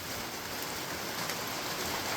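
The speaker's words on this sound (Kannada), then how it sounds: "ಅಯ್ಯೋ ಮಳೆ ಬರ್ತಾಯಿದೆ, ಒಳ್ಳೆ ಟೈಮಲ್ಲಿ ಮಳೆ ಬಂತು ನೋಡಿ." Rain falls outdoors in hilly Coorg country, a soft, even patter and hiss that stays steady throughout, with no voices.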